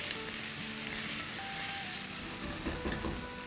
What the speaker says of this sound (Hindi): तो इसमें अब हम डाल देंगे 1 टेबलस्पून भर के लहसुन का पेस्ट।